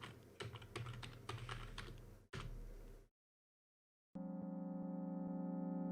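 Keys are tapped in a quick irregular run on a computer keyboard while a name is typed in a video game, a brief pause, then the clicks stop, and a steady tonal in-game music or hum takes over.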